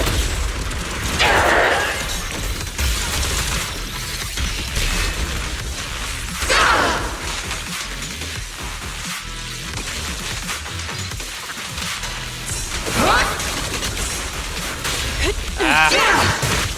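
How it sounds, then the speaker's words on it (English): Artillery barrage explosions in the video game Zenless Zone Zero: heavy booming blasts with whooshes land in separate bursts every few seconds over a dense, constant roar of combat. "Unleashing artillery barrage!"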